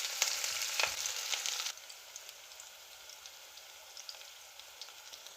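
Onions frying in two spoonfuls of hot oil, a dense crackling sizzle that is loud for the first couple of seconds, then drops to a quieter, steady sputter with scattered pops.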